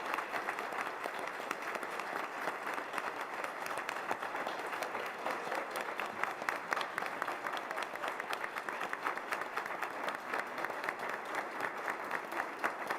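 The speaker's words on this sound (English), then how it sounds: "I'd like to give them a round of applause for being some of the best" Steady, sustained applause from an audience at a Board of Education meeting, honoring eight award-winning cadets; dense clapping holds evenly for about thirteen seconds with no talk over it.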